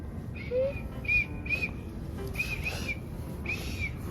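A whistle sounds in a series of short, shrill blasts with uneven gaps, over a low background rumble.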